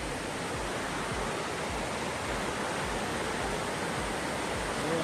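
Paklongkam waterfall in Karbi Anglong, Assam, a dense steady rush of falling water, broad and constant, close and unbroken for the whole stretch.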